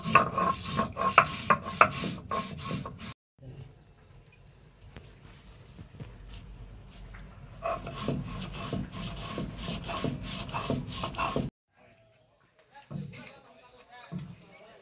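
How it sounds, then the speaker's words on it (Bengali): Rhythmic rasping strokes of a stone grinding chillies and mustard, in two bursts, with people talking nearby. "4টে কাঁচামরিচ আর সরিষা বেটে নিচ্ছি"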